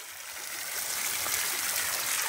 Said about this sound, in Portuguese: Já soltei a água aqui.